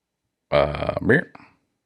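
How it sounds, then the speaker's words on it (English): A single loud, close burp lasting about a second, voiced and guttural with a rising, strained tail, then trailing off into quiet. "And burp."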